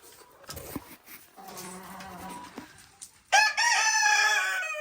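Light Sussex chickens on a small Canadian homestead, soft clucks and murmurs giving way to a loud, drawn-out rooster crow near the end, with faint insect buzzing.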